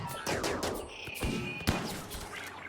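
Gunfire from a RimWorld battle: a quick cluster of sharp shots with one louder crack near the middle, over a steady backdrop of game ambience.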